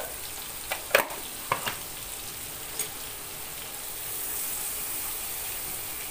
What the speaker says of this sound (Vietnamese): tỏi chiên với lại bơ này rất là thơm nha